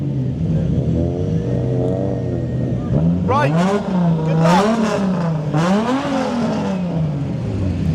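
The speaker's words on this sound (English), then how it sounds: "you're being summoned to rev the engine" A drag racing car at Santa Pod during a street-car weekend revs its engine in rising and falling pulls, loud and close, under a voice briefly speaking.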